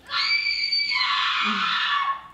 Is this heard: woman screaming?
yes